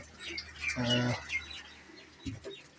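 Pet pigeons coo in a rooftop loft, a short soft burst of cooing at close range with faint chirps around it.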